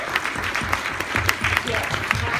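Audience applause at a gathering for children with alopecia, a steady rhythmic clapping from many hands with a voice talking over it.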